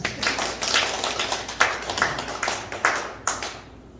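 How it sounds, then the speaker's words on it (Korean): A small church congregation gathered for a mission and neighbor-love team commitment ceremony claps briefly, with scattered uneven hand claps that thin out and fade near the end. "박수 한번 주세요. 박수."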